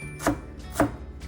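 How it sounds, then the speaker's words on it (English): Knife mincing onion on a cutting board in a home kitchen: two sharp, separate chops with a faint background hum, no talking. "So what you want to do is mince your onion like this."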